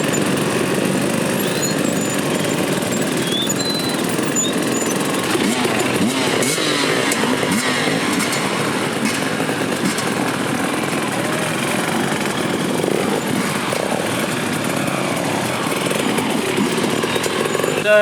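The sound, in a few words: motorcycle ridden slowly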